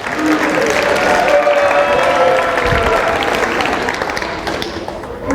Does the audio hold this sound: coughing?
no